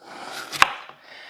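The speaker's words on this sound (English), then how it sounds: "I've got a rather large onion that I'm going to cut up because I want to cook it with the steak" A single sharp knife chop through a large onion on a board, one crisp close thud with a faint softer tap just after, otherwise quiet with no talk.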